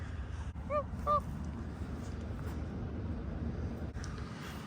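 Two short goose honks ring out early, fairly faint against a steady outdoor rumble, followed by quiet background noise.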